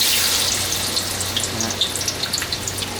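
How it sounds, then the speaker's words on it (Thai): Shiitake mushrooms fry in oil previously used for frying fish maw, giving a steady, close hiss dotted with small crackles and pops. There is no talking. "ถ้าเรานำน้ำมันที่เราทอดกระเพาะปลานะครับ เอาเห็ดหอมลงไปทอด"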